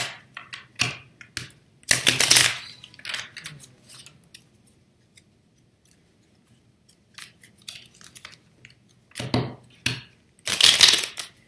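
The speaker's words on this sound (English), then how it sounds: "So shuffle one, and we shuffle 5 times." Crisp bursts of tarot cards being riffled and shuffled, several separate flurries with short pauses between them, close and fairly loud.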